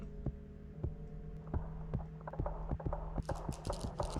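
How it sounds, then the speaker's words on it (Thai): A video game heartbeat thumps in a steady, fairly quick rhythm of low, heavy pulses over a constant droning hum, with brighter scratchy game effects joining near the end. "หัวใจเต้น"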